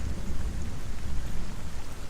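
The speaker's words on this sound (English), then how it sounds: "It's a little rainy." Heavy rain pours steadily in the Hellblade: Senua's Sacrifice game, a dense continuous roar with a deep low rumble underneath and no voices.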